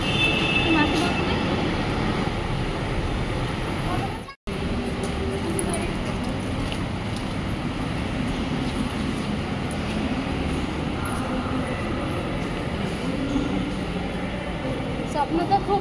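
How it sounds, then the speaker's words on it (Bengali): A metro train in Kerala rumbles steadily nearby with some wheel squeal and clatter, and people talk over the continuous rail noise after a brief cut early on. "চলে এলাম, মেট্রোতে উঠবো।"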